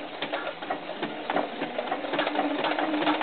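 A sewing machine stitches knit fabric for a doll's sleeveless tank top, running in a steady, close, continuous whir with a rapid mechanical rhythm throughout.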